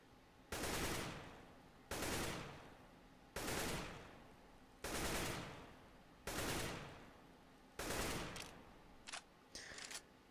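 Short AK rifle bursts fired in Counter-Strike: GO, six evenly spaced volleys of a few rapid shots each, loud and close, with brief clicks trailing near the end.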